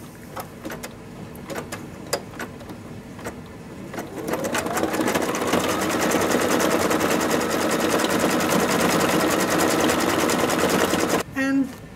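An embroidery machine stitching satin stitches around pieces of fabric for St Patrick's Day treat bags: scattered clicks and a few quiet needle taps first, then a loud, close, steady rapid whirring hum that runs on before stopping.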